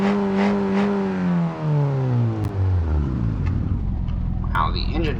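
BeamNG car engine fitted with a tubular exhaust manifold, revving up and then winding down through a falling, rumbling tone, loud and close, with a voice speaking over it.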